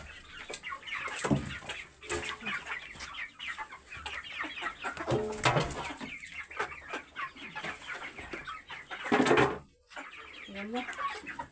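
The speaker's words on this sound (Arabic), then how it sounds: "دي الفراخ بقى اللي كانت جايبينها مع الفراخ البيضاء اهي" White chickens and other hens clucking nearby on a rooftop poultry area, irregular clucks and a few squawks over a busy household background with someone speaking at times.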